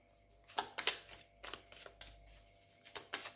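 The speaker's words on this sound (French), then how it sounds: "On va bien mélanger les cartes." Tarot cards being shuffled by hand, a handful of soft, close riffling bursts separated by short pauses, quiet and with no talking.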